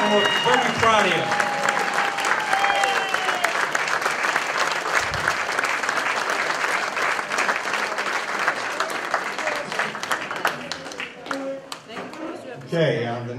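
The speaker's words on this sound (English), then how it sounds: "Stand up again for one more round of applause." An audience at a patriotic veterans' band concert gives a standing round of applause, thick, close clapping with some voices and cheers early on, thinning into scattered claps toward the end.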